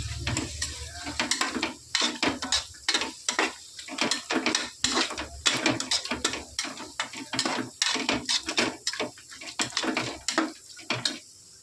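A spoon stirs prawns with softened onion and tomato for prawn biryani in a metal pot. It gives steady, rhythmic scraping strokes against the metal, close and fairly loud, over a light sizzle.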